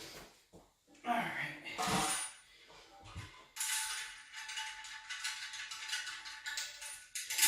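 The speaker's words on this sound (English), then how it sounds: "I'm taking the wing nuts and washers off the tank that come pre-installed with a braided toilet." Small clicks and plastic rattling come from plastic wing nuts and washers being unscrewed off a braided toilet's tank, close and fairly quiet, with some faint background noise.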